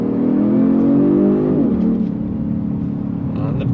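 A 2022 Genesis G70 Sport in Sport Plus mode pulls hard at full throttle, its engine note climbing loud and close, then dropping at an upshift and building again.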